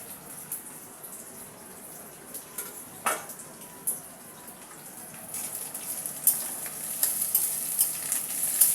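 Curry leaves fry in hot oil in a pan, giving a soft, steady sizzle with scattered crackles and pops that grow slightly busier toward the end.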